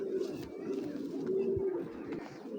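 Pigeons with pale stone-coloured eyes, racer-type youngsters among them, give a close, sustained, droning coo that hums almost without pause, rising and falling gently in a throaty rhythm.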